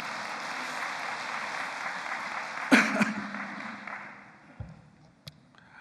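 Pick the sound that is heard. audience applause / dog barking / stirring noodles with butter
audience applause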